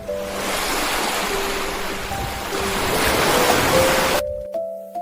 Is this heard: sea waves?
yes